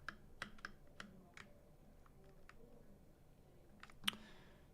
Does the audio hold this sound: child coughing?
no